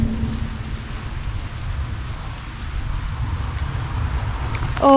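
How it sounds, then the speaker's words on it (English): Heavy rain pours along the John Muir Way, a steady close hiss and patter throughout, with a voice starting to speak at the very end. "Oh my goodness, that rain."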